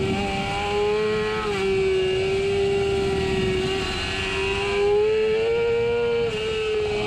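A motorcycle engine on the PittRace track drones steadily at high revs, close and loud, its pitch rising and falling slightly through the run, with no talking.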